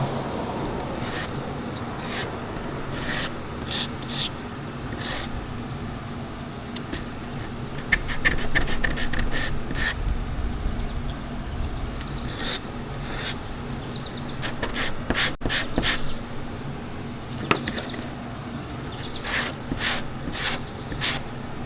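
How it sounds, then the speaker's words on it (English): Wooden comic book frame edges being sanded back and forth to knock off burrs, a steady soft rasping rub with short scratchy strokes repeating close up over a low background hum. "I'm gonna use the wood and just go back and forth in the wood to kind of just get rid of all the burrs"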